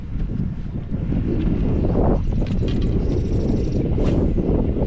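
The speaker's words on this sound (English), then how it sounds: "That's a lot of wind." Strong wind buffets the microphone on a lake during a fishing tournament, a loud, continuous rushing roar with gusty surges and faint higher rustles throughout.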